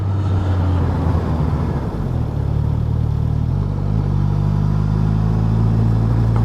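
A Suzuki GSX-S1000GT inline-four motorcycle engine idles and revs in traffic, its low steady drone shifting pitch as the throttle changes, loud and close with no speech.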